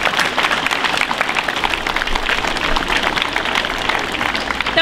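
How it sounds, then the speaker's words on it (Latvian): Applause from a school crowd welcoming sixty first-graders at a music and general primary school, dense continuous clapping close and loud, steady throughout with faint voices mixed in. "Es domāju, sveiksim viņus ar aplausiem!"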